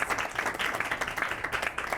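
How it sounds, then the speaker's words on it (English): Audience applause at a CEO interview with a pharmaceuticals executive in Louisville, a steady dense wash of clapping hands lasting the full two seconds at moderate volume. "we want to give her a big round of applause"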